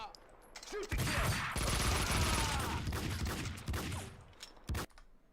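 Sustained heavy automatic gunfire in Max Payne, a dense loud barrage lasting several seconds and ending in a couple of sharp shots, with voices shouting around it.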